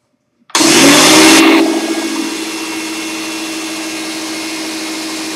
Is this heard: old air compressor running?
yes